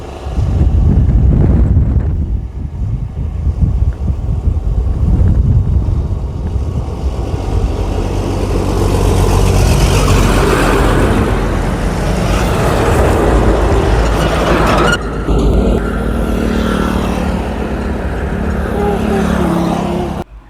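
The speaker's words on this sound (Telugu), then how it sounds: "బస్సులు కూడా వెళ్తున్నాయి చూడండి" Traffic, buses among it, rushes past on a main road near a plot entrance in Maheshwaram, a loud steady roar of passing vehicles buffeted by wind noise on the microphone.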